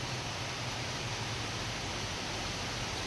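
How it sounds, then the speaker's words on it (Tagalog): Light rain falls over farmland, a steady, even hiss with no breaks and no voices. "Pero yung ulan na to parang alikabok lang ang nawala."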